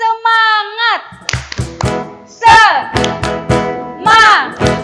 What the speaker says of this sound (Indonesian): Kita mau tepuk semangat ya Kak?